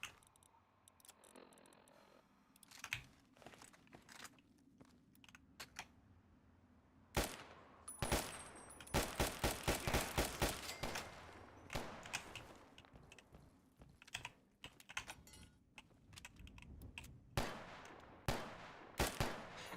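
Gunfire in the shooter game Capital Punishment, with sharp bursts of rapid shots clustering mid-way and scattered single cracks around them, loud against a low background hum.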